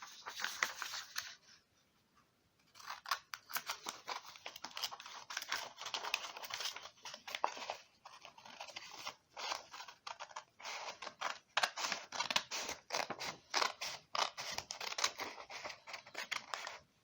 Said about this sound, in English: Okay, now take your scissors